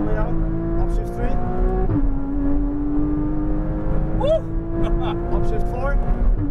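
A Porsche Cayman GTS engine winds up hard on a race track, pitch rising steadily then dropping at an upshift before climbing again, loud in the cabin under a driver's coaching voice.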